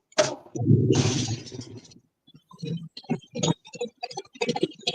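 A carbureted car engine cranks and fires with a short loud burst, then settles into uneven, choppy idle pops and putters close by, with no talk over it.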